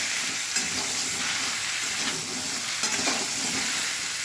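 Steady close sizzling of potatoes frying in a pan, with occasional spoon scrapes as they are stirred, no talking over it.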